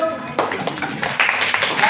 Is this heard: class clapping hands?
yes